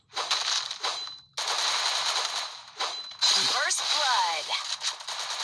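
Rapid automatic gunfire bursts from a shooter video game, loud and dense, with a voice talking over the shots.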